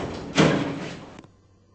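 Stannah lift doors opening in a Roblox game, a loud sliding whoosh that swells quickly and fades over about a second before ending abruptly, heard alone without talk.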